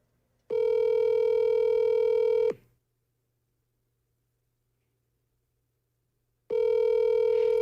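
A telephone call ringing out over a speakerphone: two long, steady electronic ring tones separated by a silent gap, clear and fairly loud with no talking.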